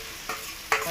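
Chili paste stirred into a hot pan for a village-style Bengali coal-fired chicken curry, a soft scraping sizzle with two brief stirring scrapes standing out, close and quiet.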